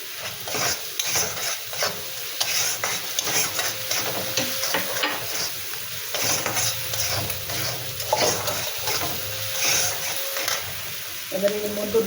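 Vegetables sautéing in a pan with turmeric and salt for a rohu fish curry, giving a steady sizzle with repeated scraping stir strokes throughout, plus a few faint clinks.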